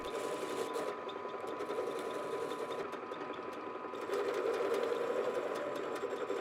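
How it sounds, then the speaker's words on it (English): Two steel pieces of an axe are welded together, giving a continuous close buzzing crackle with a steady hum that briefly dips and then grows louder. "have a nice, secure weld so that I can then get everything aligned and weld the two pieces back together"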